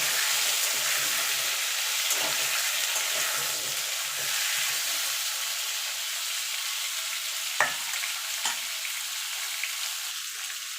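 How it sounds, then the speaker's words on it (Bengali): Potato and pumpkin pieces stirred and frying in a pan for a vegetarian Malabar spinach dish, a steady soft sizzle with gentle scraping strokes and a couple of sharper knocks near the end. "এবার আলু আর কুমড়োটা একটুখানি নেড়ে চেড়ে নেবো।"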